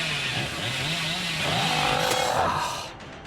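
The Hillbilly's chainsaw in Dead by Daylight revs in a droning, buzzing motor whine that swells and wavers over about three seconds, fairly close and steady before fading out.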